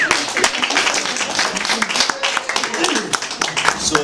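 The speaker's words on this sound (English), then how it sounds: "That round of applause always throws me off." A round of applause from the crowd at a campaign launch welcoming Jody, candidate for Dumfriesshire, Clydesdale and Tweeddale, with dense, steady clapping filling the room and loud throughout.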